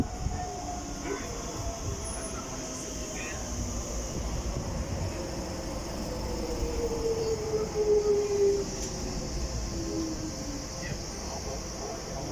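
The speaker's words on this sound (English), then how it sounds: "got another DLR coming in for Luton" DLR train pulling into Greenwich station, a faint, distant rumble of wheels on rail with a long rising squeal as it slows, steady background hum throughout.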